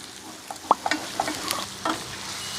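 Soft sizzling and scraping of curry leaves stirred in a hot pan while cooking Thalassery chicken biryani at home, quiet frying hiss with scattered spatula taps, no voices.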